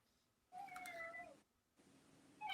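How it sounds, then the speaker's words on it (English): A cat meows close by, one drawn-out rising cry followed after a brief pause by a softer sound and the start of another meow, loud against a quiet room. "Sorry for the cat."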